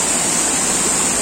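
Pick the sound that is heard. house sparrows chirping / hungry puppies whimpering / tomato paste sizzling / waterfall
waterfall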